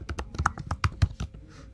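Quick burst of typing on a computer keyboard, about a dozen crisp, close key clicks in an uneven rapid rhythm, fading into quiet at the end with no voices.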